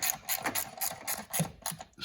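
A ratchet snugs 8 mm bolts on an EGR valve of a Dodge Grand Caravan in a quick run of rapid, close clicking bursts, about eight pulls in two seconds.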